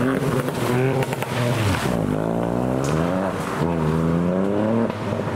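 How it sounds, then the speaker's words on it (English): Two small Ford Fiestas, one a Fiesta ST, creep slowly through the water ford at Rufford, their engines humming steadily with rising and falling revs, fairly close and loud throughout. "Seeing those two little Fiestas go by"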